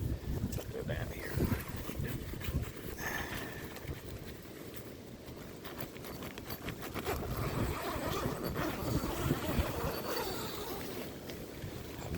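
Stormy December wind buffets an Ozark Mountain cabin tent in a steady low rush with gusts and fabric flapping, fairly faint and continuous throughout.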